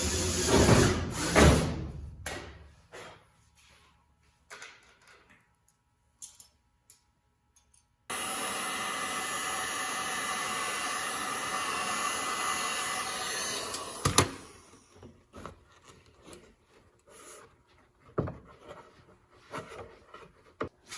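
A metal side skirt piece for a NASCAR late model race car body is cut: scattered clanks and handling noises, then about six seconds of steady, loud power-cutting noise, followed by more sporadic metallic knocks.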